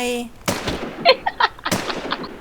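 Gunfire in the zombie survival shooter Infestation, a few sharp close shots in an uneven rhythm with short echoing tails, mixed with other game noises.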